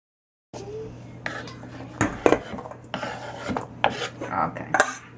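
A knife cuts an apple into small cubes on a plate, giving clustered clinks and scraping knocks of metal on dish against a steady low hum, with no voices.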